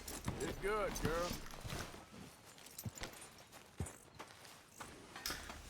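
Horse hooves clip-clop at a walk in the video game Red Dead Redemption 2 beneath ongoing speech, a steady rhythm of soft hoof falls with a few sharper clacks.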